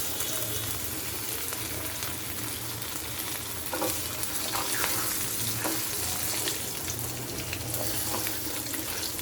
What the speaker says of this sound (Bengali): এই তেলে এখন আমরা কাঁঠালের বিচিটা ভাজবো।